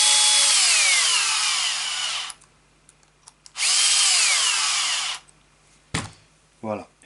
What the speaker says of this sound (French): la vitesse qu'on atteint avec une petite visseuse comme ça n'abîme pas le plastique